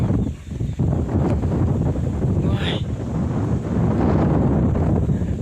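Afternoon wind blowing outdoors around a Kubota RT90 tractor hauling bales, buffeting the microphone in loud, uneven gusts that rise and fall without stopping.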